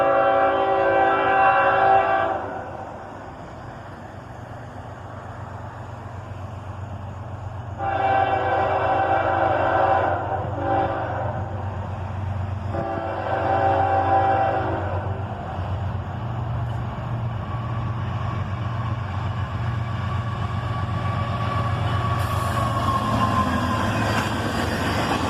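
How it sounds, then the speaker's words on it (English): Manifest freight train led by a single ES44ACH locomotive arriving, with a second unit running distributed power; the horn sounds in long, loud blasts over a steady rumbling engine drone, ending in rolling rail noise. "A single ES44ACH leads this manifest train."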